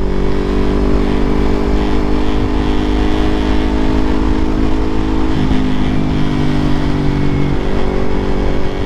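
A Yamaha MT25 250cc motorcycle runs steadily while being ridden, its engine droning loud and close with a constant mid-range hum and slight shifts in pitch, no voices over it.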